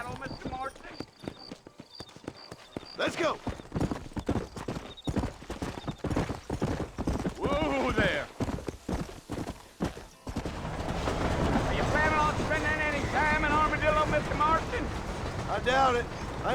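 Horse hooves clip-clop at a steady riding pace in the Western video game Red Dead Redemption, heard under frequent dialogue between characters, with background music swelling in the second half.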